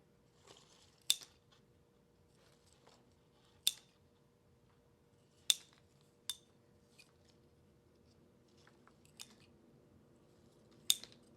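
Scissors snip hoya plant stems into cuttings for propagation, roughly seven sharp, close clicks spaced irregularly across a quiet room.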